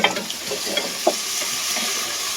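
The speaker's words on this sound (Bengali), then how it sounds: "এগুলো একটু লাল লাল করে ভেজে নেবো" Chopped onions fry in a pan, giving a steady sizzle throughout with a few soft stirring scrapes and clicks near the start.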